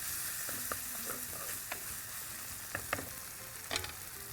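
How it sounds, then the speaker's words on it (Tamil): Vegetables are tossed into a hot pan and sautéed, a soft steady sizzle broken by several light scraping and clattering stirs, fairly close with no talking. "நல்லா வதக்கிட்டு இதில் என்ன பண்ணுறேன், இப்போது காய்கறி சேர்த்துறேன்."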